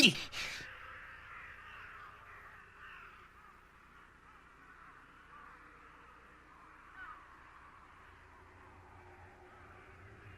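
A single loud caw from a crow in an animated cartoon bursts out at the start, then fades into a faint, low ambient hum with no further calls.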